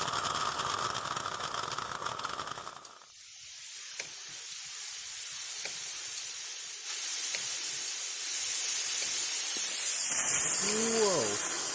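Loud, sustained hiss of steam forcing out under pressure from a homemade hot water heater built from an old AC unit, shifting in intensity partway through, with a brief faint squeal near the end.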